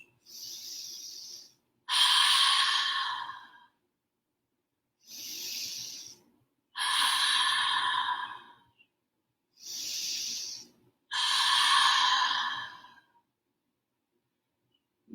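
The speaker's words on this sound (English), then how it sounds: "3 full rounds of open mouth exhales." Three paired rounds of breathing during a yoga fish pose, each a short inhale and then a longer, airy open-mouth exhale, close and regular with silence in between.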